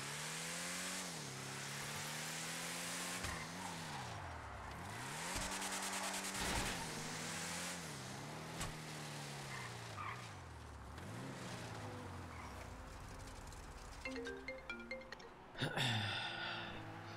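A tuned car with full brakes, full engine upgrades and a turbo drives in GTA V, its engine tone rising and falling repeatedly through gear shifts, with sharp scrapes and bumps near the end.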